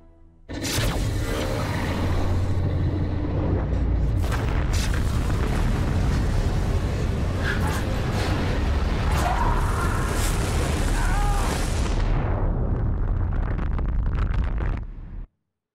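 A huge explosion in the video game Beyond: Two Souls hits suddenly and swells into a sustained, loud roaring rumble with crackling debris for over ten seconds, then cuts off abruptly.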